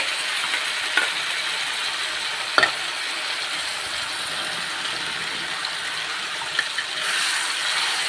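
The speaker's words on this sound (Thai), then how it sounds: "เอาละหมูเริ่มสุกใช่ไหมครับตามด้วยสตอนะครับ ผัดสตอนะครับ" Stink beans (sator) and pork belly stir-fry in a hot pan, a loud continuous sizzle broken by a few scraping spatula strokes and clacks, close up with no talking.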